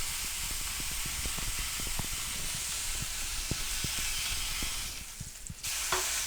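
Portions of pork fillet sear in a frying pan with leeks, giving a steady loud sizzle with scattered crackles and pops, a brief dip as the pan is handled, and no talk.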